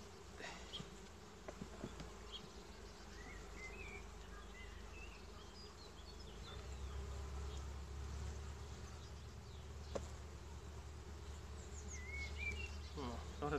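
Honey bees buzz in a steady, soft drone at an open beehive while supers are being added in spring, with faint bird chirps in the background.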